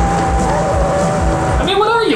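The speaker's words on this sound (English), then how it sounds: "A giant car is about to run you over?" A giant car speeds toward people in a film chase scene, its loud engine roar and tire noise mixed with a steady musical drone, closing with a sharp swooping rise and fall as it rushes close.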